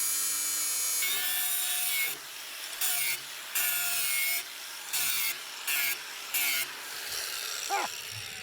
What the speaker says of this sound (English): My Harbor Freight angle grinder just pooped out on me